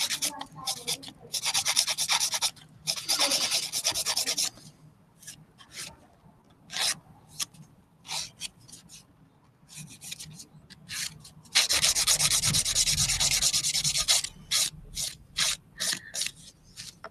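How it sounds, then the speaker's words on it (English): A 100-180 grit nail buffer rasps across nails in bursts of quick, close scratchy strokes, separated by short pauses, with a longer steady stretch of rubbing partway through. "Use the 100 grit side of the 100-180 buffer. You want to use the rougher side,"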